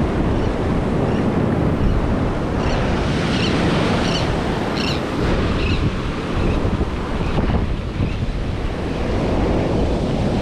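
Ocean waves break and wash continuously on a Florida beach, a loud, steady surf roar mixed with wind buffeting the microphone and no talking.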